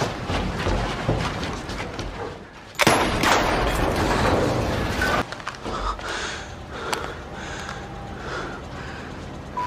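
Gunfire erupts during a tense film scene: a sudden loud blast cracks out partway through and leaves a rough, noisy tail that slowly fades, with no talk over it.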